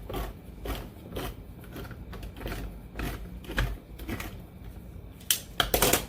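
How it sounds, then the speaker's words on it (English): A can opener cuts open cans of jackfruit in rapid ratcheting clicks, a rhythmic series of close mechanical snaps with a few sharper metallic clacks at the end. "Alright, cut these cans open."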